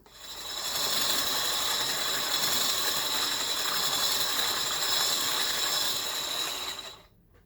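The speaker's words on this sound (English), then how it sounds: "I'm going to try it out with this vertical mixer" Vertical stand mixer blending flour batter for atayef pancakes, a steady loud whirring mechanical drone with a rattling gear texture that holds for about six seconds before cutting off.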